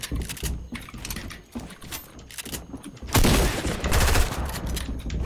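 Rapid gunfire in a first-person video game, dense bursts of shots with mechanical clicks and reloading sounds, getting louder and more intense in the second half, with no voices heard.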